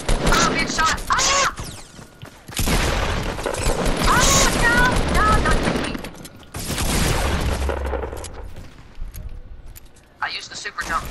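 Fortnite gunfire comes in long rattling bursts separated by short pauses, fairly loud, with someone talking over the shots.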